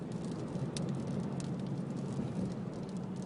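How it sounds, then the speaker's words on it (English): Steady gritty patter of small rocks and dust striking a car windshield while driving in Arizona, dense and continuous over a low road rumble, with occasional sharper ticks. "you can hear all the dust and rocks and stuff bouncing off the windshield"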